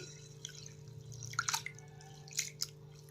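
Toor dal lentils being rinsed in a bowl of water for drumstick sambar, with quiet sloshing, scattered drips and a few slightly louder splashes over a steady low hum.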